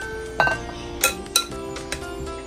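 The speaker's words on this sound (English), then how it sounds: "I'm going to plate some of these up." Cucumber onion salad being plated, with several sharp clinks of dishes and utensils against plates at close range, spaced irregularly over a steady low background with no talking.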